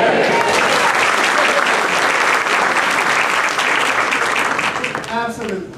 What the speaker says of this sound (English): you're required to yell, "Hear, hear," and clap for the debate.